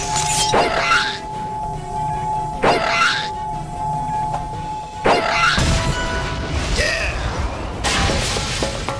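Energy crystal in a video game being destroyed, with repeated sharp crash and shatter bursts over a steady game hum, ending in a denser burst of crashing debris.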